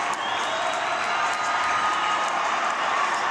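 A loud ice hockey arena crowd roars and cheers steadily after a power play goal at a boys high school state semifinal, a dense wash of noise that holds for the whole stretch without letting up.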